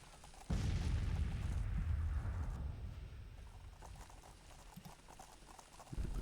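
Blakely rifled cannons of a Confederate battery firing in a Civil War strategy game, a sudden heavy boom with a rolling rumble that slowly fades, then a fainter report at the close.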